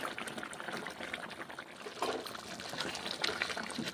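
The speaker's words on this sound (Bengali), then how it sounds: "সামান্য করে জল দিয়ে কষে নিয়ে চিকেন মশলা দিচ্ছি" Water poured into a pan of chicken masala as it cooks down, giving a steady close sizzling, bubbling wash that keeps going with a few brighter splashes, with no voices.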